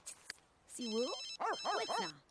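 A telephone rings in The Sims 3, a short burst of bright electronic ringing followed by warbling, sing-song Sim voices and more ringing pulses.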